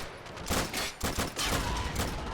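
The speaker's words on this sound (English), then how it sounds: "Automatic fire coming from over here." Automatic gunfire in an Army Men: Plastic Wars battle, loud, dense bursts of rapid shots with short breaks between volleys, no voices over it.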